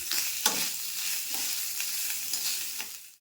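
Grated coconut frying with chopped ginger in a pan, a steady close sizzle broken by a few scraping stirs, no voices.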